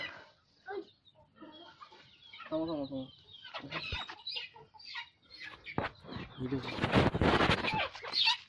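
Chickens cluck and squawk in uneven bursts, growing louder and busier toward the end, with a dense flurry of close calls.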